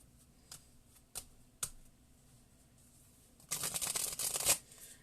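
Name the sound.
shuffling new tarot cards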